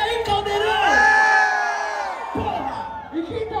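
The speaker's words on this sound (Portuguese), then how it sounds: "Vocês só estão mandando barulho aí, Caldeirão!" At a Brazilian freestyle rap battle on its sixth-anniversary night, a large crowd cheers and shouts loudly, with voices swelling, dipping briefly, then rising again in a rowdy roar.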